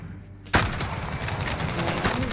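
Rapid automatic gunfire in the video game Modern Warfare starts abruptly after a short quiet moment and continues as a loud, close, dense burst of shots to the end.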